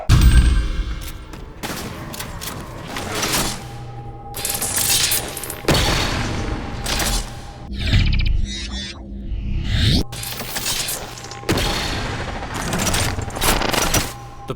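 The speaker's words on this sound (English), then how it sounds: "The bolt shot looks, sounds and animates phenomenally well." The Bolt Shot from the Halo video game fires in a rapid series of loud, sharp energy bursts, each with booming low-end weight and brief mechanical clatter between shots.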